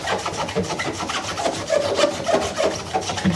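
A sponge or cloth scrubs the inside of a washing machine in quick, close, repeated rubbing strokes, a rough rasping texture that continues steadily without pause.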